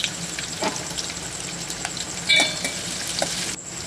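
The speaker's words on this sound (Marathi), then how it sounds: "तर मस्त असं तेलामध्ये लसूण जरा भाजून घ्यायचा" Garlic and curry leaves frying in hot oil give a steady close sizzle, with a few sharper crackles and spatters near the middle before the sound drops away at the end.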